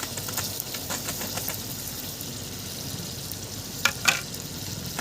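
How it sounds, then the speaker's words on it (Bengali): Pre-fried chicken pieces tipped into hot masala in a pan for chilli chicken, a close steady sizzle with a couple of sharp clattering spikes as they land, no talking. "আমি এর মধ্যে আগে থেকে ফ্রাই করে রাখা চিকেনের পিসগুলোকে ঢেলে দিচ্ছি"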